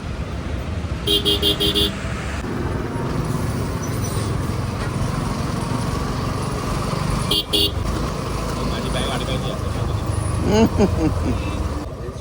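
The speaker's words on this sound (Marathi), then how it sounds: "ट्रॅफिक बघ आहे." Busy road traffic with cars and motorbikes rumbling past close by, and several sharp car horn honks sounding in short bursts over the steady engine noise.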